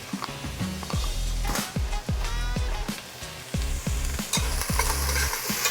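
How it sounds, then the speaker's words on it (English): Onions and a little hot pepper sautéing in a pan for Caribbean peas and rice, a loud close sizzle broken by rhythmic scraping stirs roughly every half second, with no voices. "And we're gonna saute until the onions get a bit translucent."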